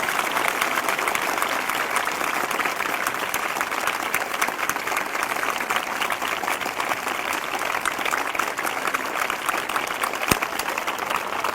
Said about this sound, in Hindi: फिर से जोरदार ताली बजाकर प्रभु को धन्यवाद दें।